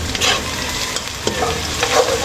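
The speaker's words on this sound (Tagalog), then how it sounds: "gisa muna natin itong bawang sibuyas" Garlic and onion are sautéed in a pan as the base for chicken liver chopsuey, giving a bright continuous sizzle with brief stirring scrapes close by.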